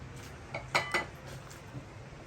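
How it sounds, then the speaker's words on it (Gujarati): Spaghetti in smoky tomato sauce is scraped into a serving bowl, giving a few close clinks of a utensil against dishware over a soft background hiss, with no talking. "અને હવે એને એક સર્વિંગ બાઉલમાં કાઢી લો."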